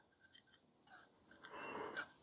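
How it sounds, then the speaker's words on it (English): A single human yawn, a soft breathy intake that swells into a louder, drawn-out exhale near the end, heard close and alone with no speech. "that was a nice yawn"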